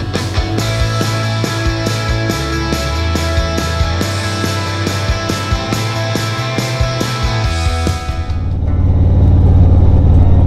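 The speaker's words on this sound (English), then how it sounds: "that must be the motorcycles I just heard ride by" Harley-Davidson motorcycles riding a bumpy road give a steady close engine drone with regular ticking, swelling into a louder, deeper rumble at the end.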